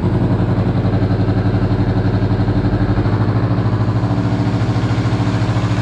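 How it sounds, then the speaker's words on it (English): A Kawasaki Vulcan S 650 motorcycle idles with the clutch held in: a loud, close, evenly pulsing engine throb that holds a steady rhythm throughout. "I'm just going to have the motorcycle on for a little bit"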